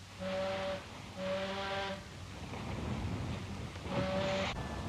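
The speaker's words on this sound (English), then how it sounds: "By all means, Mr. Rogers, give them 3 cheers on the whistle." A ship's steam whistle gives three loud, steady blasts at sea, each about a second long, with wind and wave noise rushing in the gaps between them.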